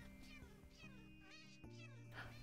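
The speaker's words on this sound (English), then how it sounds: "I heard a cat noise." Several short, clear meows from a cat in the video game Minecraft, repeating over a few seconds against a steady low game hum, moderately close with no talking.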